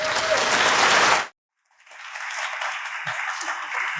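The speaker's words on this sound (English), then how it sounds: "It's okay if it feels weird to clap for somebody who's not here" An audience applauds after an essay reading at an OU event: steady, dense clapping for about a second that cuts off sharply, then after a short silence a second round of even, sustained applause.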